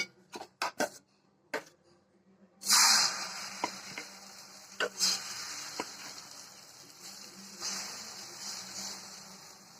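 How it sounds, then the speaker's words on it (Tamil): Egg paratha sizzles as it fries in hot oil in a pan, a steady close crackle and hiss after a few sharp clatters of utensils, with no talking. "இது மாதிரியே எல்லா எக் பராத்தாவையும் பொறிச்சு எடுத்துக்கலாம்"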